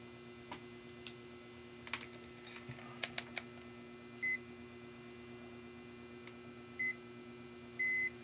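Several short electronic beeps from a multimeter in continuity buzzer mode, testing a laptop for shorts, a couple quick and one longer, among faint clicks and a low steady hum.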